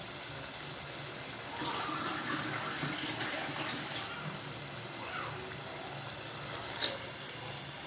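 Water is poured into a drumstick prawn curry with raw mango in it, making a quiet, steady running, splashing flow that lasts throughout.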